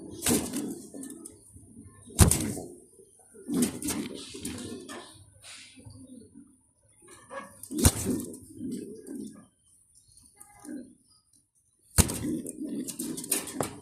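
Mundeyan pigeons in a farm loft give soft, low coos in short repeated phrases. Sharp clatters and handling noises break in at intervals, and someone talks quietly at times.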